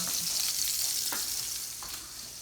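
Sausage frying and being broken up in a pan for gravy, a bright continuous sizzle with a few scraping pushes of a utensil, close and loud, no talk.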